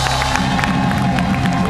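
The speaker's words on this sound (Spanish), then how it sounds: "¡Pau Nieto, un aplauso!" A loud, dense studio audience at a comedy talk show claps and cheers continuously, the noise steady and full throughout.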